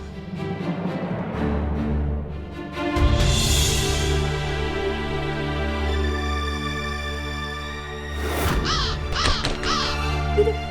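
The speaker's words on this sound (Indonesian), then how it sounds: "Itu burung gagaknya, Bunda." A crow caws in a short burst of several harsh calls near the end, following sustained background music, with no talk over it.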